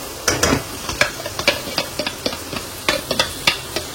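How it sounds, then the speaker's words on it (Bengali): Cashew paste being stirred into Kashmiri dum aloo in a nonstick kadai, a steady run of close spoon scrapes and clacks over a faint sizzle, with no talking. "তো এই কাজু বাটাটা মিশিয়ে দিচ্ছি।"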